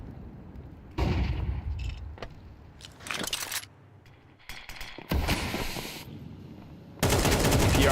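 AK rifle gunfire in a Counter-Strike esports match, heard as loud, sharp bursts of automatic fire at irregular intervals over a busy background of game noise.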